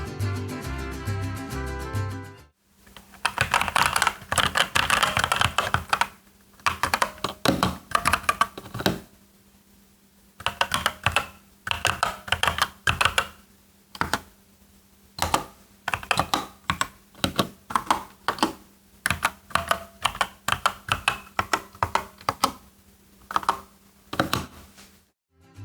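Rapid typing on a Dierya DK61E mechanical keyboard with brown switches, close and crisp, in steady bursts of clacking keys with brief pauses between runs.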